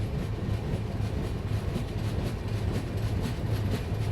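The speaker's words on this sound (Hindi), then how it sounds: "देखो ग्रेडियंट से उतर रही है सूरत मुजफ्फरपुर एक्सप्रेस" Surat Muzaffarpur Express rolling down a gradient, coming in off the Agra line: a steady, continuous rumble of wheels and carriages with a low drone throughout, close and sustained, no voices.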